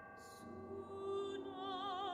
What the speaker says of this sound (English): You'll hear in the tubular bells, changing the pitch and the key for the singer.